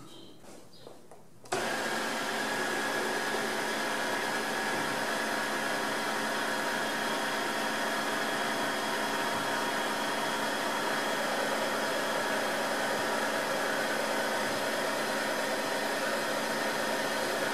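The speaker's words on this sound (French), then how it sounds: "Ça, c'est la procédure d'auto-nettoyage qui se lance très simplement en appuyant sur le bouton qui se trouve à l'arrière du manche" A Tineco iFloor 3 wet vacuum cleaner starts its self-cleaning cycle after a brief quiet moment, then runs with a loud, steady broadband whir and hum that stays even for the rest of the clip.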